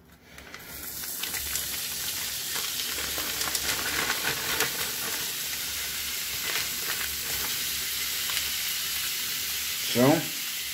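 Bacon bits frying in a pan for Dutch endive stamppot give off a steady, close sizzle and crackle that runs the whole time, with a short louder burst near the end.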